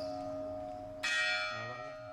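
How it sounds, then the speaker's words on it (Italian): A church bell ringing outdoors, a sustained tonal hum, then a bright new strike that rings out and slowly decays, moderately distant. "ringraziamo la campana che sta suonando per noi"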